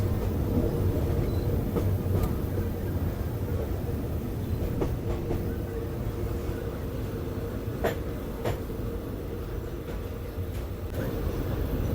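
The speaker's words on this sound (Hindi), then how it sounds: "ये छोटा सा इंजन है देखो, कुछ ऐसे इंजन भी होते हैं पुराने टाइप के।" A small, old-type train engine runs at a railway station in Thailand, producing a continuous heavy rumble with scattered metallic clicks and knocks over the full length.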